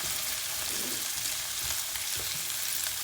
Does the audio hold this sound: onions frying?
yes